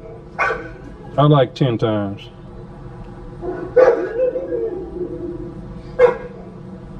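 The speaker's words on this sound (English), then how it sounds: "These dogs like talking to each other." Dogs bark in a few short bursts with yips and whimpering tones, spaced out over several seconds at moderate distance, while a person talks nearby.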